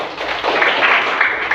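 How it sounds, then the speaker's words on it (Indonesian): Schoolchildren in a primary classroom clapping their hands together, a dense, close burst of applause lasting a moment. "Tepuk tangan dulu."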